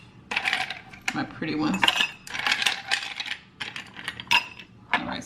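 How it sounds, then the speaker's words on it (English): Ice cubes clink and rattle into a glass in several bright, clattering bursts with short gaps between them, close by, while someone briefly speaks. "I gotta use some of these ice cubes"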